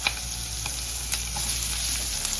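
Chopped onions sizzle in oil left over from frying eggs for an egg curry, a steady close crackling fry with occasional stirring clicks and no talking.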